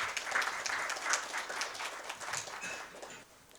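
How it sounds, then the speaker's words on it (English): An audience at a corporate recruiters' round table event applauds, steady clapping from many hands that starts full and gradually fades over a few seconds. "Please welcome her with a big round of applause."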